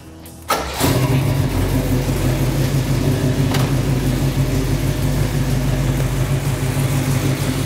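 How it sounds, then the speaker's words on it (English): A car engine fitted with an SMI carburetor cranks briefly and fires on the first try, then settles into a loud, steady, smooth idle that continues without a break. "First turn of the key, didn't hit anything on the carburetor, fired right off, nice smooth idle."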